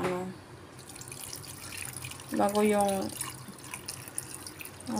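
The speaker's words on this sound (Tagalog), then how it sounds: "Parang tubig yata muna ang ilalagay ko guys" Water pours into a cooking pot for boiling cassava, a running, splashing stream that swells midway. A person talks over it.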